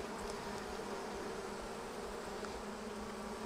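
Bees in a Flow Super hive: a dense, continuous buzzing drone, steady and close throughout, with no voices.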